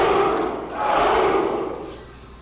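A group cheer rises from several voices in Second Life voice chat, a crowd-like shout that swells twice in quick succession before fading out over a couple of seconds.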